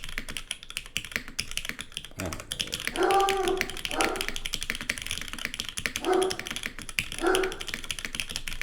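A dog barks indoors in several short loud bursts while mechanical keyboard typing clicks steadily underneath, with a voice heard briefly.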